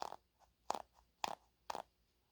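Sticky tires from a Cross RC AT-6 EMO 6X6 kit give four distinct close crunches as they are squeezed, evenly spaced with faint softer squeaks between.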